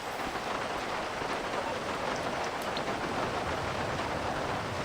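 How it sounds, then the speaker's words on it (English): Steady rain pours in Los Santos in the GTA 5 Online game world, a dense, even hiss of drops that stays loud and constant throughout with no voices. "It's always raining in Los Santos."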